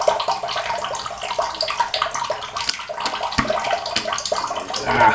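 A double-edge safety razor is rinsed under a running tap, with a steady splashing water stream and small knocks against the sink, close and fairly loud without speech.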